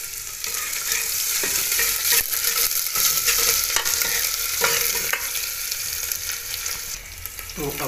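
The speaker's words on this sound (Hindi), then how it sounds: "ये देखिए अब प्याज को भी अच्छे से भून लेते हैं।" Onions and coriander sizzle and fry steadily in a pan while being stirred, a dense continuous crackle with occasional scraping stir sounds, close and fairly loud, with no talking.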